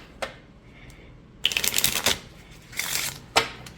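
A Lenormand deck of cards riffles in quick fluttering bursts during side shuffling, a few short snaps then longer rapid shuffles, close and crisp in a quiet room.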